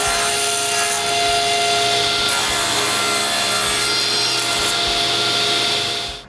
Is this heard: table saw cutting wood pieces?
yes